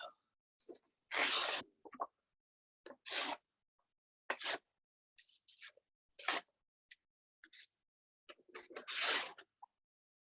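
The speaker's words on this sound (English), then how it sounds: "I have ripped my blue paper, and now the last rip is this yellow" Colored paper, including a yellow sheet, is ripped by hand in about half a dozen short, crisp tearing bursts separated by silent pauses, close to the listener.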